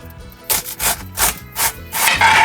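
A knife shreds cabbage on a cutting board into roughly quarter-inch strips, making about five loud, close, rhythmic slicing strokes followed by a steady scraping rush.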